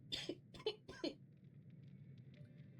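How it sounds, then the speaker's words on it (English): A person with a cold coughs three times in quick succession at the start, then only faint room noise follows, heard during a Genshin Impact livestream. "trying to mute my mic whenever I have to cough, but that one just came on really fast"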